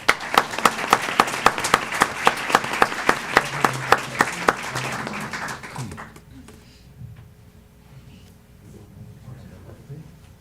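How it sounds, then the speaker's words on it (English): Audience applause at a school board of education meeting, sharp rhythmic claps for about six seconds, then fading into a quiet room murmur. "So let's give a big round of applause."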